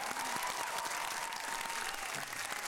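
Studio audience applauding on Norwegian Idol 2004, a dense, continuous wash of clapping from a crowd, steady throughout and moderately distant.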